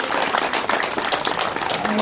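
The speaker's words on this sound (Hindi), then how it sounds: "जोरदार तालियों से एक बार उन सभी का स्वागत करिए।" A crowd at a musical yoga inauguration event claps to welcome guests, a short burst of brisk, fairly loud applause running throughout, with voices mixed in.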